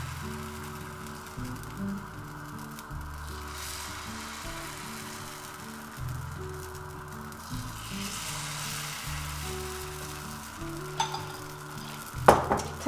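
Spoonfuls of batter frying in a pan give a soft, steady sizzle beneath quiet background music, ending with a couple of sharp utensil clinks against the pan.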